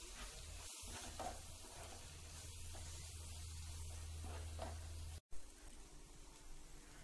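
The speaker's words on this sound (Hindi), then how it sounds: "और तेल छूटने तक इसे अच्छे से पका लेंगे" About two teaspoons of ground garam masala frying in oil for Punjabi chole masala, a steady faint sizzle that holds throughout with brief stirring scrapes.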